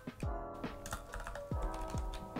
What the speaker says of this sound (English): if you start typing, let's say learn